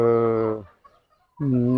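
Country chickens of a native breed on a natural farm, loud close clucking calls in two separate bursts with a short quiet gap between them.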